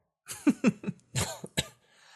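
A burst of several harsh coughs in quick succession, close and fairly loud, followed by a quieter hack and a soft breathy trailing sound.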